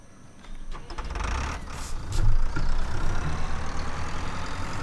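Tractor engine from the Pure Farming 2018 farming game during a Colombian coffee bean harvest, a steady low diesel rumble and idle that swells slightly midway and holds on, alone with no talk.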